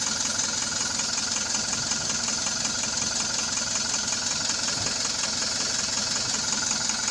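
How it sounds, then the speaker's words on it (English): Mitsubishi Fuso Canter truck engine idling in a workshop with a check-engine and DPF warning, a steady close-up mechanical drone with a fine, even knocking chatter and no change in pace. "So the engine is running."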